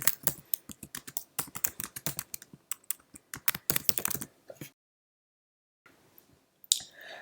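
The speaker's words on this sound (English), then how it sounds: "Let's now go within the email itself and type Dear Admin." Rapid keystrokes on a Mac computer keyboard while composing an email, a close, crisp burst of clicks for several seconds, then a gap of silence and a few final taps.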